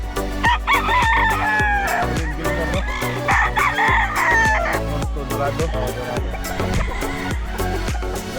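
A Kelso Yellow Legged Hatch gamefowl rooster crowing at a gamefowl farm, heard over loud rhythmic music with other cocks crowing and clucking around.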